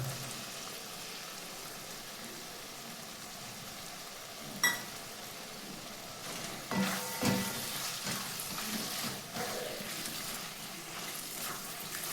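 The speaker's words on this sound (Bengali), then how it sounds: "টমেটোটা দিয়ে ভালো করে কষিয়ে নেবেন" Chopped tomato frying with spice paste in a pan over a low flame, a faint steady sizzle with a sharp clank near the middle and a few stirring scrapes later on.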